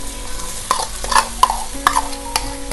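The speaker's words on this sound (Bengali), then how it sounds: "খুব ভালোভাবে আবারও একবার একটু মিশিয়ে নিচ্ছি মশলার সাথে।" A spatula stirs fried Gobindobhog rice with spices in a pan, giving repeated scraping clacks against the metal about every half second over a steady low sizzle, close up and with no voices.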